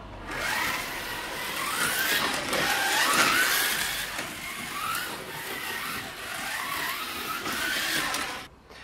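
A Carrera BMW 2002 slot car fitted with converted wheels runs laps on a slot track, giving a continuous whirring motor whine with rising and falling pitch sweeps as it speeds through corners and straights, close and steady with no talk.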